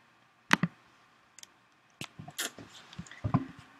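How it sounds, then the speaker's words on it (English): A handful of close, crisp computer keyboard key clicks come in short bursts with quiet gaps between them, loud and near at the mic. "I'll turn on my keyboard here for you."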